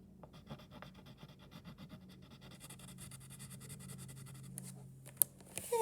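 Crayon or marker rubbing back and forth to color in a square on a hundred chart, a soft close scratching in quick strokes, faint and steady.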